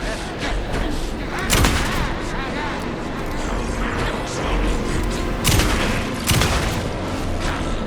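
Gunfire rings out in the video game Alan Wake: several sharp shots and bursts stand out over a busy backdrop of action noise and music, with loud peaks scattered through the clip.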